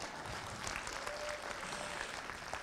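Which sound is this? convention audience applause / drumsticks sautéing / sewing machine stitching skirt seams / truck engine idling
convention audience applause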